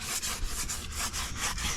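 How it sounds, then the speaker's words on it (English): Rhythmic back-and-forth strokes of sandpaper on a painted wooden window frame, about nine even rasping passes in under two seconds, close and fairly quiet. "Sanding the paint for that it is for preparing it to put this like filling on."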